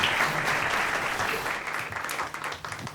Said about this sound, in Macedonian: дајте аплауз за овој човек што премногу викна